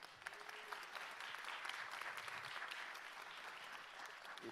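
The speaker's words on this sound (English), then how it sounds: "Please help give a round of applause for Rick Rogers and Samantha Dowdy." An audience at a chamber of commerce candidate forum gives sustained, steady applause, heard faint and somewhat distant throughout.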